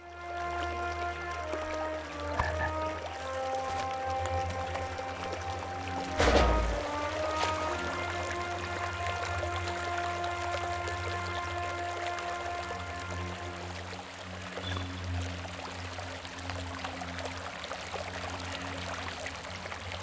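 A waterfall in the fantasy game The Lord of the Rings Online gives a steady rushing wash under sustained musical tones, with one brief thump partway through and no speech.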